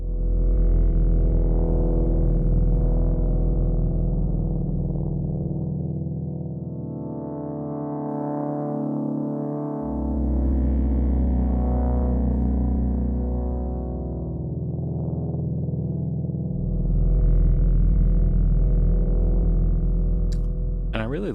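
A gritty, distorted synth bass plays sustained notes with even weight, layered under a soft pad in an electronic sound-design patch, running steadily throughout without any talk.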